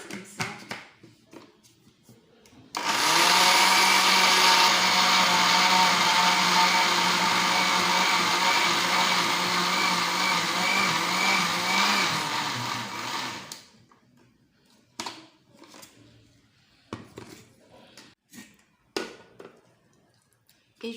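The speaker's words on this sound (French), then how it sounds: "On passe le mélange à la moulinex comme ça" Moulinex blender whirring through an okra gel mixture, a loud steady motor drone lasting about ten seconds, then stopping, followed by scattered clinks and handling noises.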